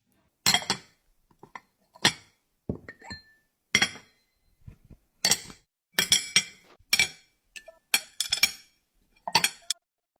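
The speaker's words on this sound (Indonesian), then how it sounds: "Contoh benda mati yang menghasilkan bunyi: sendok, garpu," Spoons, forks and plates clink together in a series of sharp, bright strikes, about a dozen separate knocks with quiet gaps, near and fairly loud.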